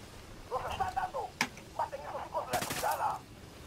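Sharp gunshots in the co-op shooter Ghost Recon Wildlands, a few isolated cracks and a quick burst, sound at moderate distance under players' chatter.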